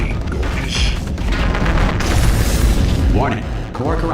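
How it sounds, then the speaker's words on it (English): A loud, sustained rumbling explosion in the Portal 2 video game fills the whole stretch with heavy low roar and crackling debris, with electronic warbling tones rising near the end. "I think something just exploded."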